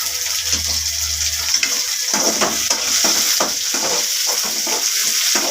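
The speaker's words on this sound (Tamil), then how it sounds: "போட்டு நல்லா வதக்கணும்." Coriander is sautéed in a pan, a constant close sizzle with a hissing wet edge, marked by regular scraping strokes of a stirring spoon.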